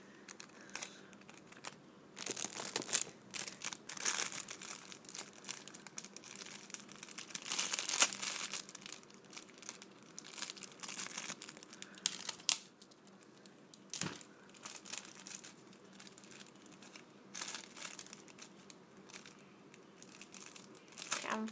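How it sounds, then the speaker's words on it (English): Tape crinkles and tears in close-up while being wrapped around a fragile squishy, with irregular crackling bursts and short rips spread throughout, no talking. "So I'm almost finished taping it."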